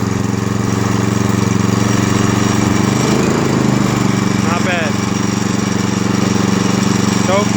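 A small Honda/Predator engine, its carburetor newly cleaned, runs loud and close with the choke off, holding a steady drone while the throttle briefly shifts its pitch midway.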